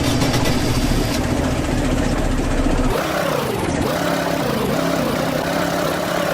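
A tiny Halloween car in the Roblox game Greenville idles with a steady low engine drone, then the pitch dips and rises as revs change, loud and close with no talk.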